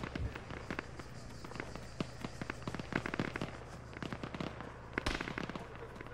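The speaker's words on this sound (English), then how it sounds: "We're taking fire from the north." Gunfire in a ShackTac military video game: a dense run of sharp shots and cracks, some close and loud and others farther off, over a low rumble that lasts the whole stretch.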